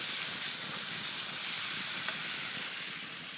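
Food fries in a pan over an outdoor fire lit with a magnifying glass and gets stirred, giving a loud, continuous close-up sizzle and hiss with no voices.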